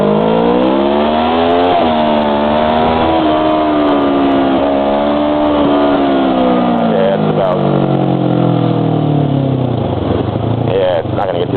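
A motorcycle rides along a busy main city road in Asia, its engine drone rising and falling in pitch as it accelerates and eases off, loud and continuous with traffic noise around it.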